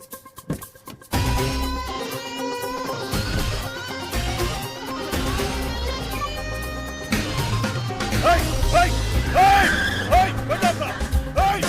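A car pulls away fast in a busy film scene, its engine surging with a brief tire squeal near the end, mixed under a loud musical score.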